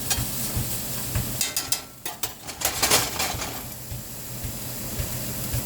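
Chicken livers and onions sautéing in a pan, a steady low sizzle with scattered clinks and scrapes of a utensil stirring against the pan, close and alone without talk.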